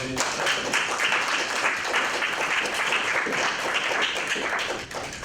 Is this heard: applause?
yes